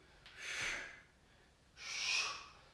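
Two strong, breathy exhalations during a core workout exercise, each lasting about a second and separated by a short pause, close and clear with no talking.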